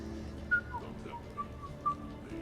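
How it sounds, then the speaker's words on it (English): A video game character whistles a few short, high notes in a sparse melodic phrase, fairly quiet over a low background hum, with no talking. "Are you whistling?"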